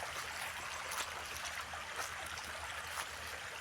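Water from a borewell flows steadily in a farm field, a soft continuous rushing and trickling without pause, fairly faint and heard alone.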